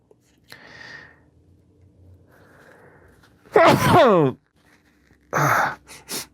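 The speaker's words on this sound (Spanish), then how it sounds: "tengo mi alergia y me da muchas ganas de estornudar" A single loud, explosive human sneeze, preceded by a sharp inhale and breathy build-up, then followed by a short sniffling exhale, close and clear in a quiet room.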